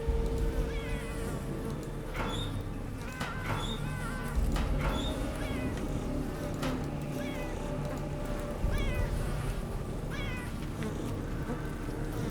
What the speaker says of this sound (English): Something tells me I should be very afraid of the cats.